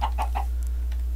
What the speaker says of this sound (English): Well, I've got two chickens